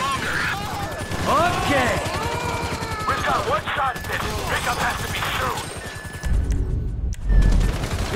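Rapid gunfire during a raid on the FIB building in a GTA video game, a dense crackle of shots running throughout under several excited voices, with heavier bursts toward the end.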